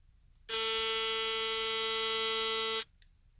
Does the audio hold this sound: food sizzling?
no